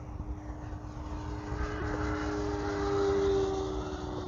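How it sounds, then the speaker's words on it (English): An E-flite Conscendo RC airplane makes a full-throttle speed pass, its steady motor and propeller drone holding level and then swelling slightly louder as it draws nearer, with no talking. "coming by for a speed pass. Opening up full throttle."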